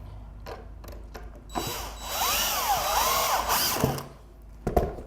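A power drill drives screws into a wooden pallet frame for a smokehouse rack, whirring up and winding down in a rising and falling whine for about two seconds, with clicks and knocks of wood before and after.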